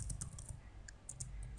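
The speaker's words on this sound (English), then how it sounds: "I will type update company" An SQL update query typed on a computer keyboard, with faint rapid key taps over a low steady background hum and no talking.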